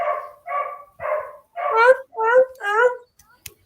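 A dog barks six times in a steady series of loud, close barks, the later ones harsher, followed by a couple of faint knocks.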